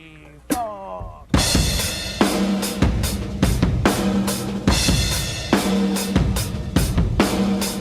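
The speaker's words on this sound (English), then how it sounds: "if we add like a room reverb effect, it'll sound something like this." A rock drum beat played with a room reverb effect opens after a brief count-in hit and fill, then settles into a loud, booming kick-and-snare groove with lingering ambience and cymbal wash.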